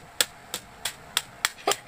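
A hammer crushes Oreo cookies in six sharp, evenly spaced blows, loud and close, alone without talk.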